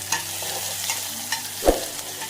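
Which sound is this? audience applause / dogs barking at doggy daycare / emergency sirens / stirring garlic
stirring garlic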